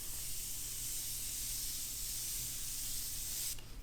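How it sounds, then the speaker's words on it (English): Morphe makeup setting spray misted close up in one long, steady, bright hiss that stops abruptly at the end, with no talking. "apply a lot of setting spray"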